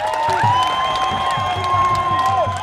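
A political rally audience in Mbarali district applauds and cheers for the Tanzanian president, a dense steady crowd roar with clapping and a few high whistle-like tones running throughout.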